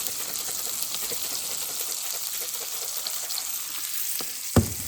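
Venison steaks and onions sizzle and fry in a pan with a steady, close crackling hiss, then a sharp clink or tap near the end.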